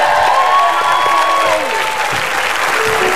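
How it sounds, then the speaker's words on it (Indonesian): A studio audience at an Indonesian television talent show breaks into loud, continuous applause with a few cheers mixed in, steady throughout the short stretch. "Tepuk tangan dong untuk mereka."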